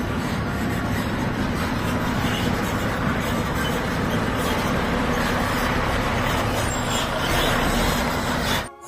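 A concrete mixer truck rumbles past with a loud, continuous low engine roar and broadband road noise, steady for several seconds before cutting off abruptly at the end.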